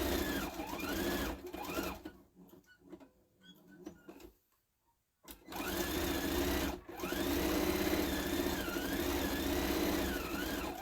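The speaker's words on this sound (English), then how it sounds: "now I'm going to sew all the way around it" Sewing machine stitching around fabric for a bunny-ear Easter basket, a steady close mechanical whir that stops for a few seconds in the middle, then resumes and runs on evenly.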